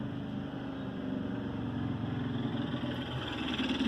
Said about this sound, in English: let me let this loud motorcycle go by